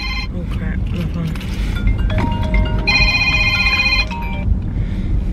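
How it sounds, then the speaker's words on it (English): A mobile phone rings with a repeating tonal ringtone, loud and close, while a person talks over it. "Come on, phone. How can I mute this?"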